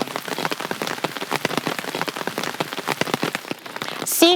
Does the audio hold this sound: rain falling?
yes